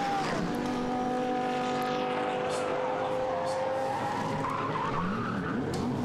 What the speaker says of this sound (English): And there's a spin at Luffield.